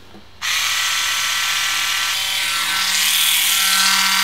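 A Roto Clipper electric nail file and trimmer switches on with a sudden loud, high-pitched whine that holds steady and grows slightly harsher near the end, close to the microphone with no talk.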